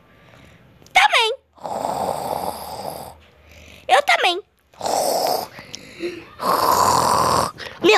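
A creature snores loudly in long rasping breaths repeated several times, each with a squealing wheeze at its start, interrupted by short spoken exchanges.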